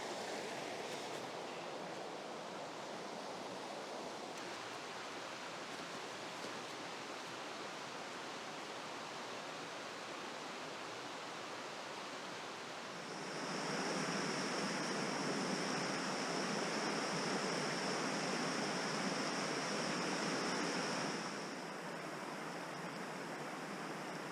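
A river rushes past in a steady, dense roar close by, swelling louder midway and then settling back, with no voices.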